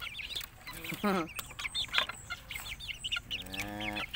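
Several chickens cluck and squawk close by in a busy, overlapping chorus on a rural farm, with a rooster-like drawn-out call near the end.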